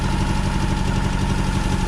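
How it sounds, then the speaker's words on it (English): A car engine climbing in RPM, recorded up close and loud, with a dense, pulsing low roar that holds for a couple of seconds. "Picking up RPM."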